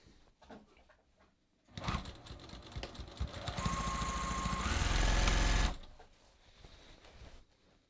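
Sewing machine stitching jeans along a drawn guideline, a close motor whir of about four seconds that speeds up to a louder, steadier hum before stopping, with faint room noise on either side.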